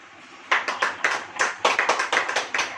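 A church congregation claps hands together in short bursts of quick, fairly loud claps, ragged and uneven, with no one speaking.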